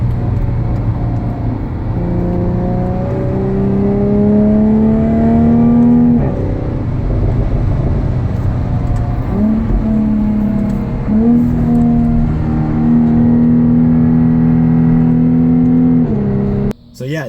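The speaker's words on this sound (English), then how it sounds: "And you can hear the exhaust popping quite a bit." A 2015 Jaguar F-Type in sport mode accelerates hard with paddle shifts, its exhaust droning loud and close, rising in pitch through the gears, with brief dips at each shift and scattered crackles.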